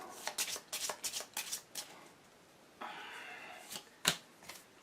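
Cards for the 7th Continent board game being shuffled, a run of quick papery riffling bursts followed by a longer smooth bridge and a few sharp card snaps, close and fairly quiet with no talk.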